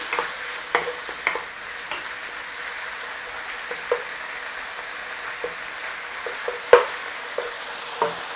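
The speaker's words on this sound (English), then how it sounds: "Little cooking, little softening on the onions." Onions frying and softening in a pan, a soft continuous sizzle broken by occasional stirring clicks and scrapes at close range, with no talk.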